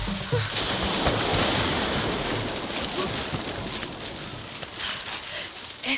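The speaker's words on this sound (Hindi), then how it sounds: "ऐसा तूफान पहले कभी नहीं देखा। ये टोर्नेडो है" Movie sound effect of a violent storm: dense, loud rain pours continuously while low thunder rumbles underneath, with scattered sharper cracks and no voices.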